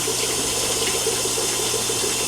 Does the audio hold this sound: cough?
no